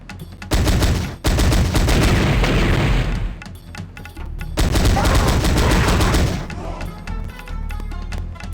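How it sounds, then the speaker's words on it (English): Scripted wall explosions in the Sega Saturn game Powerslave (Exhumed), played on real hardware: loud rumbling booms and crackling blasts come in two long bursts with a short break between them, with no speech over them. "I do like their scripted explosions though with the walls"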